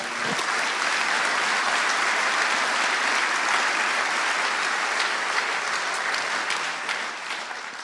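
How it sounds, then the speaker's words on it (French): A conference audience applauds its sponsors in a large hall, with dense, sustained clapping held at a steady level for nearly eight seconds before easing slightly at the end. "Je pense qu'on peut les applaudir parce que vraiment."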